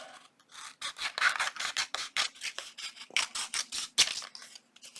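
Scissors snip and rasp through paper while a corner tuck is cut out, in quick repeated close strokes with brief pauses between bursts.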